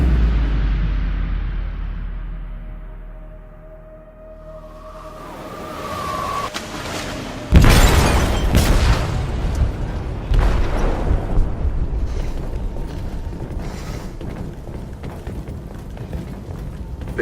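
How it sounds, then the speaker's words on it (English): An explosive detonates in a ship's hold in Detroit: Become Human, a loud sudden blast after a quiet, fading lead-in, followed by crackling, rumbling debris and continuing bursts that stay loud to the end. "They detonated an explosive in the hold."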